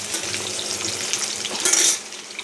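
Potatoes for cabbage curry fry in hot oil in a pan on an induction cooktop, giving a steady close sizzle with a brief louder hiss near the end.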